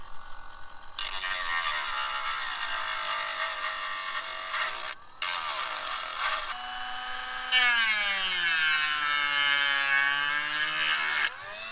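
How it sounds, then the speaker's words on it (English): Dremel rotary tool on low speed grinding away plastic while fitting heated grips on a Sea-Doo GTX, a continuous close whine that dips briefly, then rises in pitch and loudness before cutting off. "So now I'm gonna get my Dremel. We're gonna go on low speed. I'm just gonna grind this away a little bit at a time."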